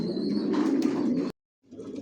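Adult racer pigeons from a Johnson long-distance line coo in a soft, rolling, throaty drone close by, with a faint wing flutter. It cuts to brief silence, then the cooing resumes more quietly.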